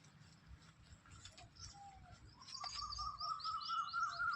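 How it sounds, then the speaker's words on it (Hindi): Several birds chirp and call in the morning air, with short tweets and brief whistled notes building into a busier chorus, fairly distant and quiet over a low outdoor background. "बढ़िया सुबह सुबह का परिवेश, पक्षियों की चहचहाने की आवाज़ें आपको आ रही हैं"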